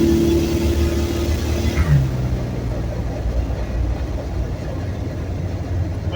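A 1970 Torino with a turbocharged inline-six and a new exhaust system: a low engine rumble with a gear change and shifting tone early on, then a steady moderate drone from inside the car, with speech at times.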